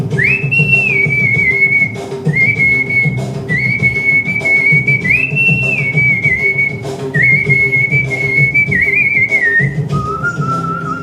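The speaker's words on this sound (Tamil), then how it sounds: "இதழ் பேசும் மொழியாக விசில் சத்தத்தை மாற்றி பரதமிடும்" A woman whistles a melodic performance, a Chennai whistler honoured at the World Whistling Convention, with sustained pitched phrases and slides repeating over about eleven seconds above a steady backing accompaniment.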